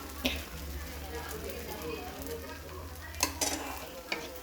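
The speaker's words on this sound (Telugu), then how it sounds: "ఫస్ట్ అయితే ఒక ప్లెయిన్ దోశ అయితే వేసేస్తాను" Plain dosa batter sizzling and frying steadily on a hot pan, with a continuous crackle and a few sharper clinks of utensils near the end.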